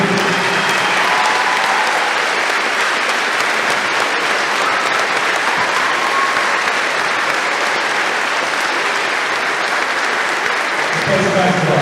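Loud, dense crowd applause fills a large indoor arena before a basketball game, a sustained roar of clapping mixed with cheering voices that holds steady throughout.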